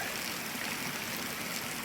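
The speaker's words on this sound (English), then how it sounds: "Is that some water flow or what?" Water flows steadily and continuously at an off-grid homestead, spilling over the top of something, with a broadband rushing wash like a small stream, close and even throughout with no talk.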